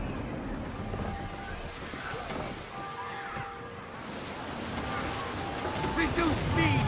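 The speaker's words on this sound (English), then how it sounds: "Gusty winds can be difficult to manage." Gusty wind and rushing sea around a sailing ship in the video game Assassin's Creed III, a steady broad roar of wind and waves that swells slightly toward the end, with voices heard faintly in the mix.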